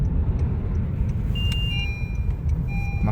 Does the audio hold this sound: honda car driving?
yes